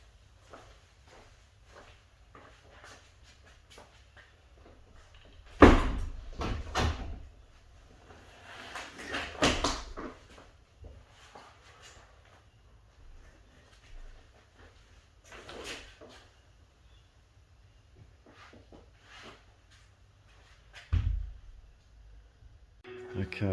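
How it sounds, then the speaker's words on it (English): A Stegbar sliding door is lifted out of its tracks, giving a few loud knocks and scraping thuds between stretches of quiet, while someone talks throughout. "And these doors do just lift straight out of the tracks."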